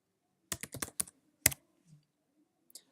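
Python code being typed on a computer keyboard: a quick close run of about six key clicks, a pause, then a couple more presses and a faint final tap, with no voice.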